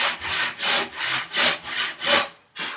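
A hand saw cutting the cheeks of a wooden tenon for a workbench, loud close rhythmic rasping strokes, about six even back-and-forth pushes followed by a short pause and one more stroke.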